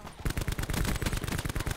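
Rapid automatic gunfire from Call of Duty: Black Ops 4 gameplay, a dense, steady stream of loud, close shots with a few brief pauses and no talking.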